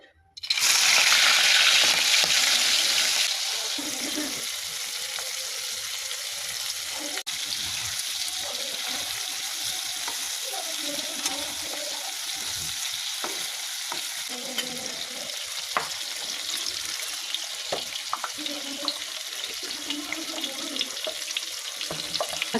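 Marinated prawns hit hot oil in a karahi for chingri bhuna, sizzling loudly at first, then frying steadily with scraping stirs and light clinks.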